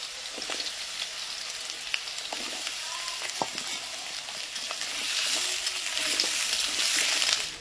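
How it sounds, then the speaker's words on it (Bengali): Potatoes deep-fry in hot oil in a wok for Kashmiri dum aloo, giving a continuous close sizzle with small crackles that grows fuller toward the end. "তেলটা পুরোপুরি গরম হয়ে গেছে, এবার আমি আলুগুলোকে ভেজে নেবো"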